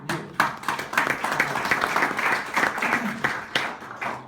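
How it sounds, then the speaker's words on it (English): An audience applauds after a speech on B Corps with a dense, moderately loud round of clapping that carries steadily for several seconds. "Worthy of another round of applause for you."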